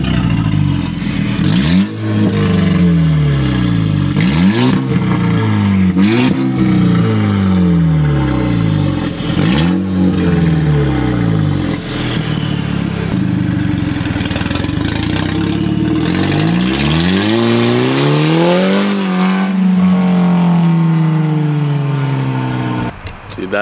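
A Volkswagen GTI with a very loud exhaust revs repeatedly in rising and falling sweeps, then roars past close by and fades, with voices talking underneath.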